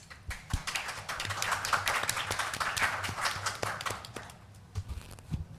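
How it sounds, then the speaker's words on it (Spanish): A small audience at a literary reading event gives scattered applause for the readers, a fairly faint patter of claps with a few sharper, nearer ones and a low hum underneath. "Así que un aplauso para ellos."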